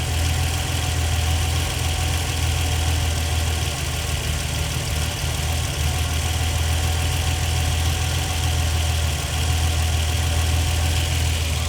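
A rebuilt 1960s Ferrari V12 engine idles steadily and loudly during running-in, a constant low rumble with a smooth, unchanging hum throughout.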